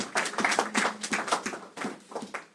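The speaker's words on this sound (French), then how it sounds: "Acclamons pour la parole de Dieu" Congregation at a church service clapping for the word of God, a loud, close run of brisk, slightly uneven hand claps that thins out toward the end.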